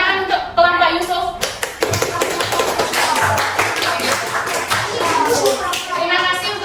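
Classroom applause for a student group: children clap together in a lively, uneven burst, close and fairly loud, with a teacher's voice briefly heard at the start and end.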